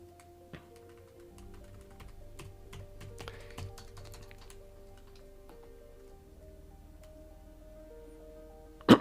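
Keys on a computer keyboard clatter in a steady, light touch-typing patter throughout, close and fairly quiet, with a sharper burst of clicks at the very end.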